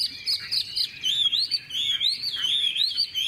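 A tame Chinese hwamei songbird, a large bird held on the hand, sings a loud, continuous run of bright, warbling whistled phrases close by, with no talking.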